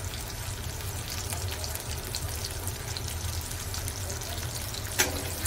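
Curry leaves and green chili crackle in hot oil in a home kitchen, a steady dense frying sizzle throughout with a brief sharp spit near the end, close and fairly loud.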